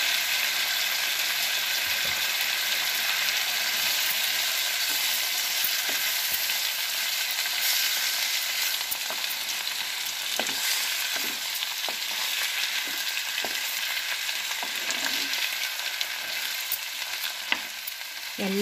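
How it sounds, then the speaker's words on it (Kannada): Chopped tomatoes with salt frying in a pan for tomato chitranna gojju, a loud continuous hiss and sizzle with occasional stirring scrapes and clicks close by. "ಈಗ ನಾನು ಹೆಚ್ಚಿಟ್ಕೊಂಡಿರೋಂಥ ಅಷ್ಟು ಟೊಮೊಟೊನ ಹಾಕ್ತಾ ಇದ್ದೀನಿ. ಟೊಮೊಟೊಗೂ ಕೂಡ ಉಪ್ಪನ್ನು ಹಾಕ್ತಾ ಇದ್ದೀನಿ."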